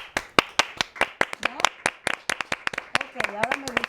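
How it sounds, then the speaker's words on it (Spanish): A forum audience claps together in loose, uneven bursts, individual hand claps distinct and fairly close, while a voice talks intermittently beneath the clapping. "Vamos a aplaudir todos."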